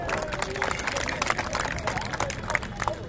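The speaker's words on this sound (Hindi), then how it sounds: "एक बार जोरदार ताली बजाएंगे।" A crowd on a parade ground claps together, dense and sustained rapid applause that continues through the whole stretch, with a faint background murmur of voices mixed in.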